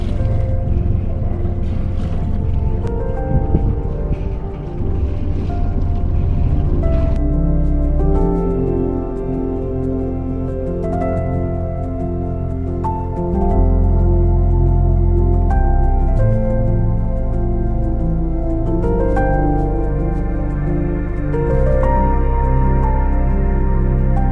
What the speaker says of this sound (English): We are motoring here.